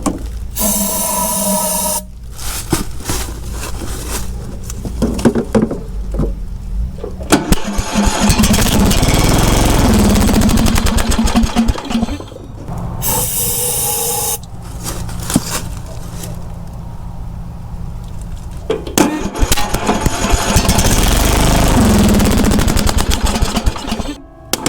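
A small engine with a faulty replacement carburetor runs unevenly, surging in loud ragged bursts broken by sudden drops and stalls across the clip, with some background noise.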